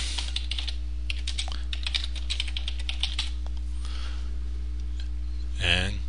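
Quick, close clicking of a computer keyboard as a caption is typed, a steady patter of keystrokes over a constant low hum, with a short rising tone at the end.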